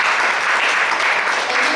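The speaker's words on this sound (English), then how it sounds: "Let's give a clap." An audience at a lecture on integrated infrastructure and sustainable materials claps steadily after a presentation, a dense, even burst of applause with no voices over it.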